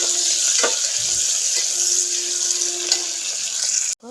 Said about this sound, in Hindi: पियाज भलसे भाजिबा